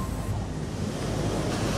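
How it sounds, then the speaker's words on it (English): Sea waves wash steadily against the foot of a high cliff, a loud continuous roar of surf mixed with strong wind buffeting the microphone. "He was hearing the sea"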